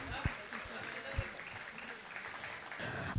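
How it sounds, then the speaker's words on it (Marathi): Applause breaks out from the audience at a school annual function, a faint, continuous patter of clapping heard at some distance, with talk over it. "जोरदार टाळ्या वाजवूयात."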